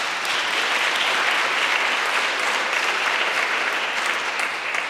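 Dense, steady audience applause fills a youth award ceremony hall in Aachen, continuous and even from start to finish with no talk.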